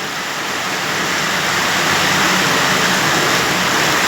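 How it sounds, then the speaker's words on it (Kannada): Dense, steady roar of heavy rain in Shivamogga, India, a constant loud hiss that stays even throughout with no voices. "ಶಿವಮೊಗ್ಗದಲ್ಲಿ ಭಾರಿ ಮಳೆ ಬರ್ತಾ ಇದೆ ನೋಡಿ"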